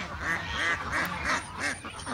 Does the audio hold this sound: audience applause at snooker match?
no